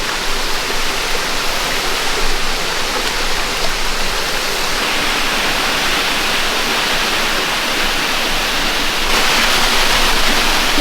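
Steady broadband rush of creek water flowing, constant and fairly loud throughout, with no voices.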